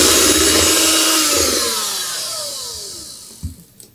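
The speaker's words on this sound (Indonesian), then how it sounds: "kita masukin santan. Lanjut kita mixer kembali." An electric hand mixer whirs steadily through pukis batter with coconut milk, its loud motor whine sliding down in pitch as it slows and stops, followed by a couple of soft knocks.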